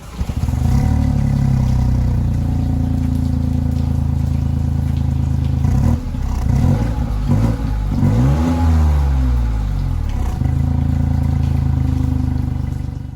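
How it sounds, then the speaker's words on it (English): MINI Cooper 60 Years Edition with a 3-cylinder engine, a loud close throaty rumble that holds steady, then drops and climbs through rising revs before settling back into a constant drone. "It's a 3-cylinder, it's a nice 3-cylinder rumble, you know?"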